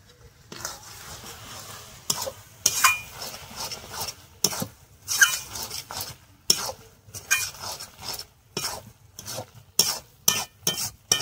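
A spatula stirs cabbage cooked with fish head in a pan, giving repeated scraping strokes in an irregular rhythm over a soft, faint sizzle, close up with no talking.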